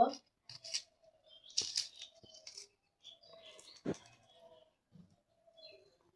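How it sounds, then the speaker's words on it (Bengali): Dry onion and garlic skins are peeled and snipped by hand, giving close, intermittent papery crackles, tears and clicks with quiet gaps, plus faint murmurs of a voice. "তো আমি এই যে পেঁয়াজ রসুন ছিলে নেব"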